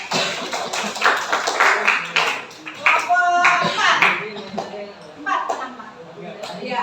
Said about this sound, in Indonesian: Tepuk tangan dong kelompok 3.